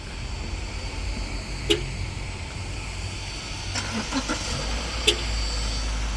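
A 2019 Subaru Legacy Limited 2.5 engine idles after remote start with a low, steady rumble, fairly faint, with a few scattered clicks and taps over it.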